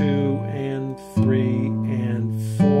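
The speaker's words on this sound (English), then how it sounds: "going back and forth just with our thumb on strings" Fingerstyle acoustic guitar with the thumb alternating between the fifth and third strings in a steady bass pattern, ringing close and clear with no talking.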